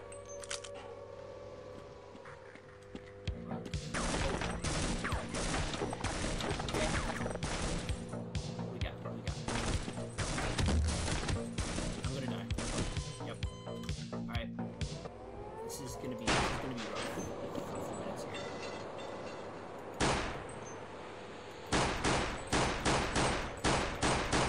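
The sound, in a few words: gunfire from shooting an enemy in video game Half-Life C.A.G.E.D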